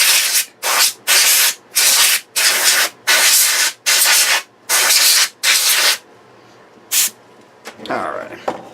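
Compressed air blasting dust out of a Radio Shack regulated power supply under repair, in about ten loud hissing bursts of roughly half a second each with short gaps, then a single short burst and some faint rustling.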